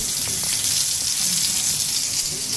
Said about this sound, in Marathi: आता बोंबील मस्त फ्राय करते